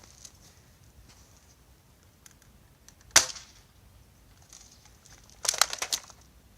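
Airsoft M4A1 firing BBs outdoors, one sharp snapping shot followed a couple of seconds later by a quick cluster of faint ticks and rattles, against quiet background.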